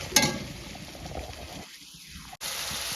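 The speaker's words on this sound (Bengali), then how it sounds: "যতক্ষণ না মশলা থেকে তেল থাকতে শুরু করবে ততক্ষণ পর্যন্ত আমাকে সুন্দর করে কষিয়ে নিতে হবে।" Spice paste (masala) frying in oil in a pan while cooking katla fish head with jackfruit and potato curry, a steady soft sizzle running throughout, close and moderately quiet, with no talking.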